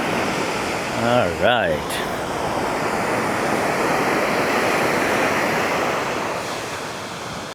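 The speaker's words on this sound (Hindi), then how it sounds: "आ गई समंदर की आवाज़ लहरों की" Sea waves roll onto Negombo Beach in Sri Lanka, a loud, continuous wash of surf with wind buffeting the microphone, and a voice briefly speaks over it near the start.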